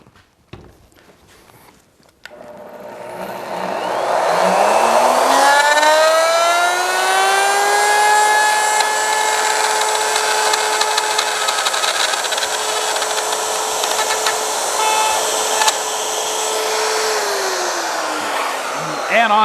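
A wood router spins up with a rising whine and then holds a loud, steady high-pitched drone. It is working scrap wood into a chain in a workshop. A few brief sounds are heard before the motor starts.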